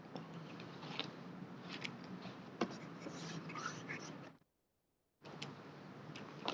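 Marker or chalk writing on a board during a lecture, close continuous scratchy strokes with sharp taps, broken by a brief pause before the writing resumes, no talk.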